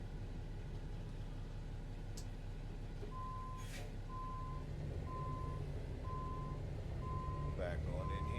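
A truck reverses under a trailer in American Truck Simulator, its steady reversing beeper pulsing at an even rhythm over a low diesel engine rumble, with a brief air hiss in between.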